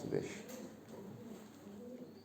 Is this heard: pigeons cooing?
yes